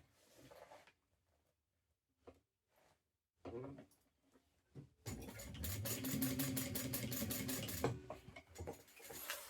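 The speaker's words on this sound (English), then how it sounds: "we're going to move this up a little bit so that we can stitch down, which I'm just doing a basting stitch for now" A sewing machine runs a basting stitch while sewing a 3-in-1 bubble bag. Sparse handling noises come first, then the machine whirs steadily and close for the last few seconds.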